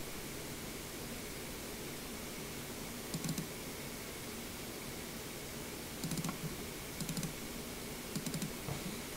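Faint scattered keyboard clicks come in short bursts of a few keystrokes over steady background hiss while someone types a display name when uploading a game mod.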